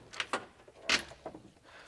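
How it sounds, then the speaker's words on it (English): The trunk lid of a 1969 Chevrolet Camaro SS being opened, a quick series of close metallic clicks and a latch release with a louder clunk in the middle, followed by softer rattles. "Let's get into the trunk."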